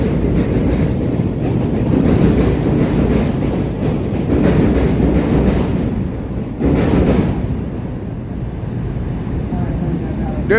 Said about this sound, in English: Oh, here comes the train going.